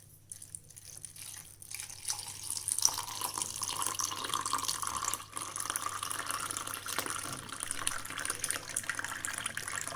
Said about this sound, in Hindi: अब इसमें मैं दूध डालूंगी।